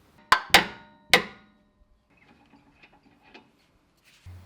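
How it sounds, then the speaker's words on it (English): A hammer strikes a steering damper bolt on a Suzuki Jimny three times in quick succession, sharp close metallic blows, followed by faint light rattles and clicks. "what I need to do is hit this with a hammer to free it from this steering link"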